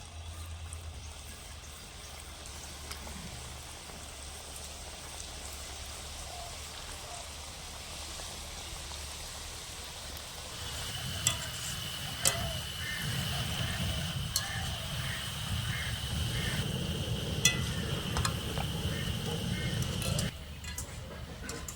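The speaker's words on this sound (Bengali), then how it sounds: "পান্তাগুলো ভাজার জন্য আমি এখানে কিছুটা তেল ভালো করে গরম করে আঁচটাকে একদম লো করে রেখেছি এবার আমি মিষ্টিগুলো দিয়ে দেবো" Potato pantua sweets fry in hot oil kept on low heat, a steady sizzling hiss that grows denser and louder partway through as they go into the pan, with someone speaking over it.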